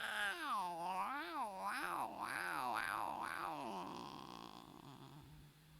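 A human voice imitates cats yowling near houses, giving long wavering, rising-and-falling moans that slowly fade out.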